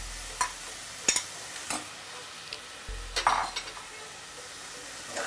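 Raw banana pieces being stirred in a frying pan for a curry: a few scattered scraping clinks of a spoon against the pan over a soft, low sizzle, heard up close with no voices.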